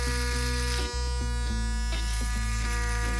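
A palm-sized ES-PV6A electric shaver hums in a steady, close buzz, its pitch dipping and shifting briefly a few times as the blades move against skin.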